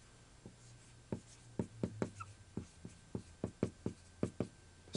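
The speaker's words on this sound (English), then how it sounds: "So write that down." Pen writing on paper while working a dice probability math problem, a series of quiet, close scratchy strokes in uneven bursts, alone with no talking.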